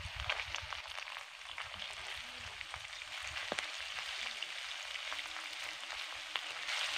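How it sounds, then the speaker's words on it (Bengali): Ginger and garlic paste fries in oil for chicken fried rice, a faint, continuous crackling sizzle with scattered small pops, heard close but at low volume with no talking. "আদা আর রসুনের কাঁচা গন্ধটা কেটে যাওয়া পর্যন্ত আমি ভেজে নেব।"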